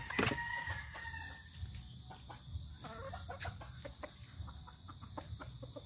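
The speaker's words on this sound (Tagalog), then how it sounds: "Mga tandang ko na panabong." Gamecocks bred for fighting crow and cluck close by in a farmyard on a Sunday morning, with a loud crow near the start and scattered clucks and calls after it.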